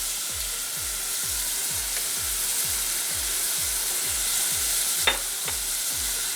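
Food sizzles steadily in a frying pan while a utensil scrapes and stirs it in a regular rhythm, close and fairly loud, with no talking.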